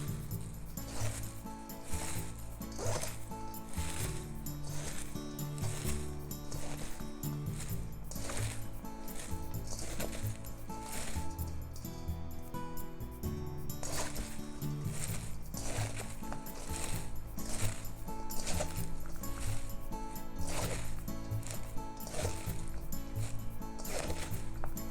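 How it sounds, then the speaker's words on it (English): Salted cabbage being mixed and rubbed by hand, close rhythmic crunchy squeaks and wet rustling repeating steadily for about twenty-five seconds without talk. "Let's add salt and mix like you're rubbing it."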